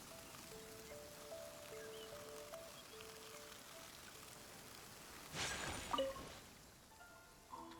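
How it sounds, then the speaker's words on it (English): Steady rain patters in a Genshin Impact game scene, a broad constant hiss with faint tonal game music lines early on and a brief louder swell of splashing rustle near the end. "Let us find shelter from the rain."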